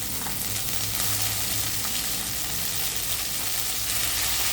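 Mint paste frying in hot oil gives a loud, steady, dense sizzle that carries on evenly without pause and without voices.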